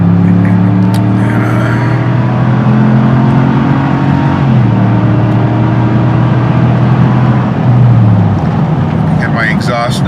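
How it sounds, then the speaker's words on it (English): A truck with a modified exhaust and rear resonators left on rumbles steadily at close range, its engine note shifting as it revs and drives, with the low drone running throughout. "Get my exhaust done on my truck."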